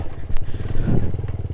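A Suzuki Satria FU motorcycle rides off-road at dusk, its engine droning loud and close with a rough, uneven rumble and rattling clatter from the bike over bumpy ground.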